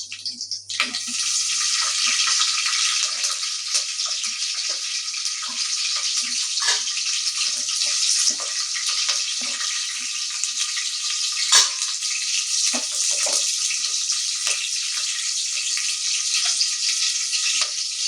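Fennel seeds, cinnamon, cloves, cardamom and bay leaf fry in hot oil with green chillies for a mushroom biryani, a loud, steady, close sizzle with a few faint clinks.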